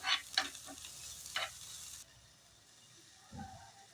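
Curry leaves hit hot oil with a sharp, crackling sizzle and stirring for about two seconds, then the frying settles to a faint, quiet hiss.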